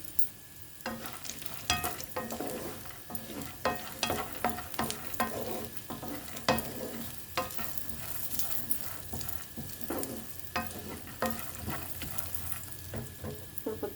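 Pumpkin seeds and dry fruits dry-roast in a pan for a dates laddu, giving repeated scraping stir strokes and light crackling at an irregular rhythm, close and moderately loud, with no talking.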